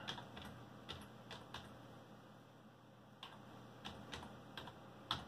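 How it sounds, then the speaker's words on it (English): Keys clatter on a computer keyboard as a command is typed into a Linux terminal, a quiet sequence of separate clicks in uneven bursts with short pauses, close and alone without talk. "one last thing you gotta do is just type sudo"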